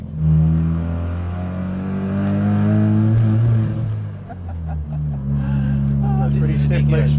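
A 1972 Mazda RX3 Savanna's turbocharged 13B rotary engine drones loudly from inside the cabin, swelling as it revs and settling back, with a voice talking over the noise.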